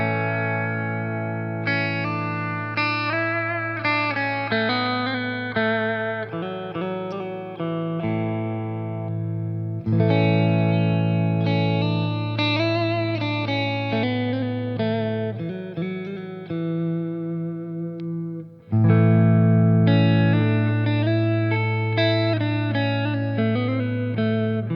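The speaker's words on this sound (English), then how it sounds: "Let's hear what it sounds like just through the Fender Deluxe Reverb clean." Clean electric guitar, a Squier, playing chords and melodic lines through a Fender Deluxe Reverb tube amp, warm and ringing with light reverb, in three phrases separated by brief pauses.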